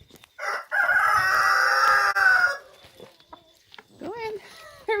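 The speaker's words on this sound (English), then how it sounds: "So, 1, 2, 3, 4, 5 hens, a rooster, and 2 in the nests." Chickens and a rooster outside a hen house: a loud drawn-out crow near the start, then scattered clucks and short calls, with a person talking nearby.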